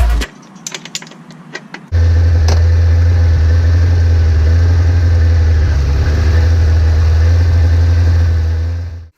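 A motorcycle engine idling steadily after a chain adjustment, a deep even drone that starts abruptly after a few light clicks and holds loud and close until it cuts off at the end.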